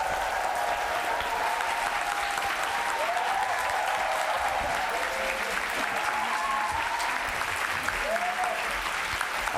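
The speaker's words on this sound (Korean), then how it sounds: "여러분 뜨거운 박수 모시고 조소영 대표님 오도록 하겠습니다" A lecture-hall audience gives warm, sustained applause for an arriving speaker, a dense, even roar of many hands clapping for the whole stretch, with faint voices and a tonal background sound weaving underneath.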